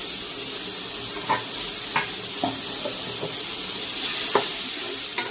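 Tomato with green chilli and garlic sautéing in a pan, a close, steady sizzle with scattered clicks and taps from stirring.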